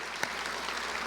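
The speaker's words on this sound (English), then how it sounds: "let's give them another round of applause" Applause for the governor and First Lady at a Let's Move rally in Jackson, Mississippi, a steady broadband wash of clapping from a crowd with one sharper clap standing out, heard alone without talk.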